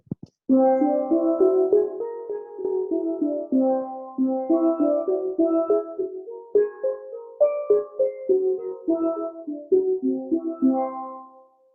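A steelpan plays a quick run of bright, ringing notes stepping up and down a C whole tone scale, each note struck and decaying.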